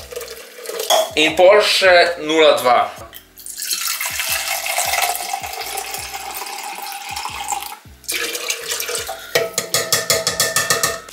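Milk poured into a bowl of waffle batter, a steady liquid splashing and trickling that runs for several seconds between clinks of dishes and utensils, with a voice talking briefly nearby.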